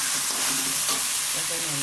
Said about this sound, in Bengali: খুব সুন্দর করে ভেজে নিতে হবে।